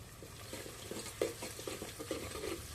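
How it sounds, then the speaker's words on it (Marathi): Pieces of mutton fat sauté in a pan over a wood-fired stove, making a quiet, steady crackle with soft, irregular stirring scrapes and one brief louder knock. "तर थोडीशी आता आपण चरबी परतून घेऊया"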